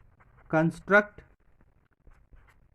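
A pencil draws a geometric construction of triangle PQS for a quadrilateral, heard as faint, sparse scratching strokes after a brief burst of a nearby voice.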